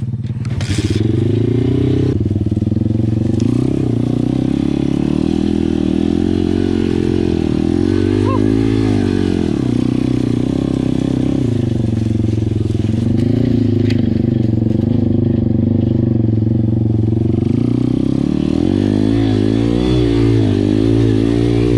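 A new Pitgang 140XD pit bike runs close and loud through its break-in ride, its small engine rising and falling in pitch as the throttle is worked, with rattling and scraping over rough ground.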